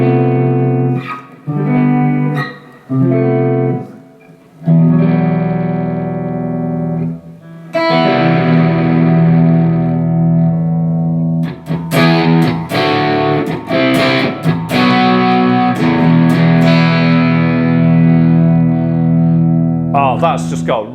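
Electric guitar in the middle pickup position, an LT Custom Privateer Standard played through effects, with chords and notes ringing out under chorus, echo and slight distortion, loud and close.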